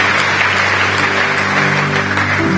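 Congregation applauding in acclamation of the Lord during a church gathering, a loud, continuous wash of clapping over a steady low hum, with no break in the sound.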